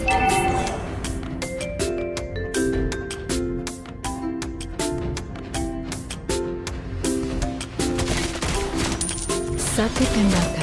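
Rapid gunfire from Beatrix's guns in Mobile Legends, bursts of sharp shots repeating steadily over game music, with a faint voice line in the background.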